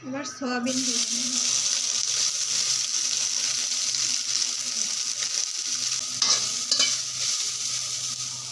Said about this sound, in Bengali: এবার সয়াবিন ভেজে নেব।